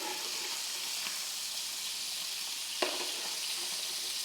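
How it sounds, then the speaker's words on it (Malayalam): Sardines sizzle steadily in a hot pan, a constant crackling hiss with one sharp clink near the end, fairly close and with no voices. "നല്ല പൊരിഞ്ഞ് വന്നിട്ടുണ്ട് മത്തി"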